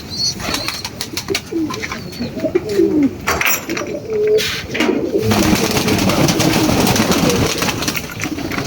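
Domestic pigeons in a loft with males and females coo repeatedly, low throaty calls overlapping in a steady chorus, close and fairly loud against a busy rustling background.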